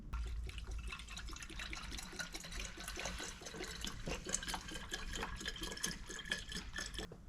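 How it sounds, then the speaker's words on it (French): Coolant being poured into a car's radiator expansion tank during a radiator replacement, a steady close liquid pour and trickle with small splashes running unbroken throughout. "On va remplir le vase d'expansion"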